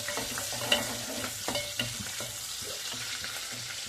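Garlic kebab masala fries in a pan at home with a steady close sizzle, broken by a few sharp taps and scrapes of a stirring spoon.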